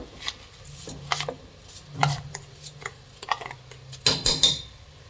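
Washed rice tipped into a metal pot for drumstick biryani gives a few separate clattering scrapes and clinks of pan and utensil, close and moderately loud, with short gaps between them.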